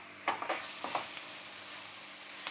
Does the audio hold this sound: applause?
no